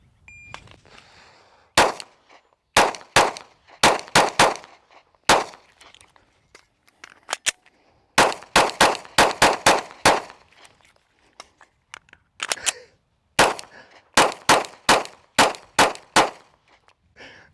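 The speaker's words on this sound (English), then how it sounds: "we're gonna be shooting at the 5-yard line, and we've got 3 mags with 7 rounds apiece" Pistol fired at targets from the 5-yard line, three magazines of seven rounds each. Sharp, loud shots come in quick clusters separated by short pauses for reloading, each followed by a metallic ring of steel targets, with no talk.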